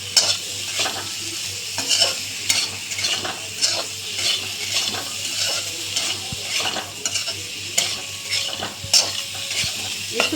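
Rohu fish frying in a pan in a home kitchen, stirred with steady scraping and clinking strokes over a continuous sizzle, close and moderately loud, with no voices.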